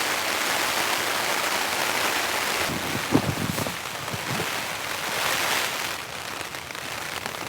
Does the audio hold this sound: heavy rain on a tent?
yes